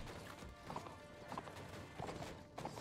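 Horse hooves clip-clop in the Mount and Blade: Warband video game, with several rhythmic bursts of steps spread evenly through the stretch against steady background ambience.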